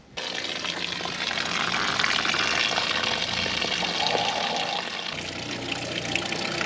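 Water draining out of travel trailer plumbing, a steady rushing and splashing flow that continues loudly and evenly for several seconds with no voices.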